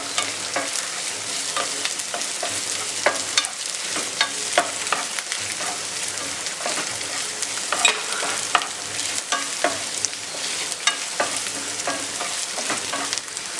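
Ginger and garlic frying in a pan for a pork curry, a steady close sizzle with frequent scraping stirs and small spatula clicks throughout, no voices.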